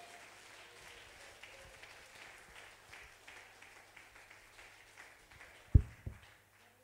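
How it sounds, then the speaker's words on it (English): Congregation clapping hands during a Sunday morning church worship service, a soft, steady patter of distant clapping that ends with a couple of louder knocks near the close. "could you clap your hands for the Lord and bless the Lord?"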